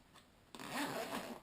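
A zip opening on the top pocket of an evacuation bag: a short, close rasping pull that starts abruptly and runs for about a second.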